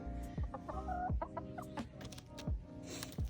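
Chickens cluck nearby in a busy, overlapping stream of short calls and soft chatter.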